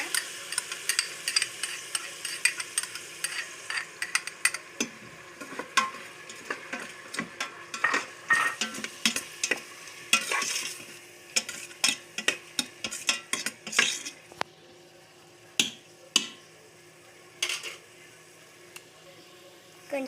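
A spoon stirring salt into a curry of tomato in a pan, with repeated scraping and clicking strokes over a soft sizzle, fairly quiet and irregular, no talk.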